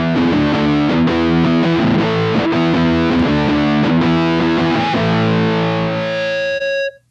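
A distorted electric guitar, run through the Blue Cat AcouFiend feedback plugin, plays chugging notes and then rings out into a sustained, rising feedback tone at the song's end before cutting off abruptly.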